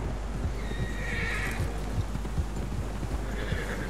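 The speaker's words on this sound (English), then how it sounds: "Horses, quite a few of them." Horses neighing in the video game Red Dead Redemption 2, a couple of whinnies over a constant low rumble and hoof clatter, with no talk.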